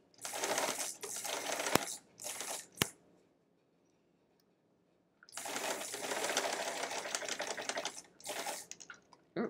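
A sewing machine stitching seams in quilt fabric pieces, running in long loud mechanical bursts with brief stops and a silent gap between, close, no talking.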